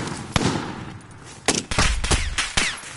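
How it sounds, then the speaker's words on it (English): Sharp gunshots crack out in a video game firefight, several separate bursts and single shots at irregular intervals, loud and close, with a low rumble between them. "Yo, we're getting shot at."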